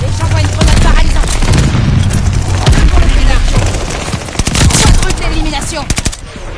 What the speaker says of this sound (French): Attention, barrage de mortier. Attention, tir de mortier allié imminent.